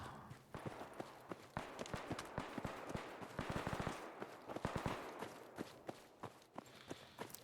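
Rapid, irregular bursts of gunfire in Fallout 4 modded with Tarkov-style gameplay, sharp cracks coming in quick clusters, some close and some more distant.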